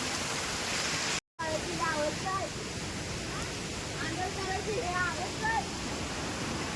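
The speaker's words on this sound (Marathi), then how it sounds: "हे आमचं दोंडीचं पाणी" River water at Dondi in Konkan running full after a night of rain, a steady broad rush throughout with a brief dropout early on.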